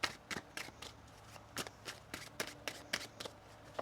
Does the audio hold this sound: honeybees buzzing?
no